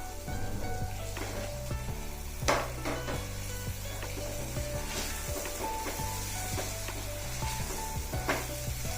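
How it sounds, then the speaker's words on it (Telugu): Jackfruit halwa being stirred in a pan after a spoonful of chopped pistachios, cashews and almonds goes in, giving a steady close sizzle with soft scraping strokes and occasional clinks of the spoon against the pan. "ఇందులో పిస్తా, జీడిపప్పు, బాదం పలుకులు 1 స్పూను వేసుకొని ఈ విధంగా కలదిప్పుకుందాం"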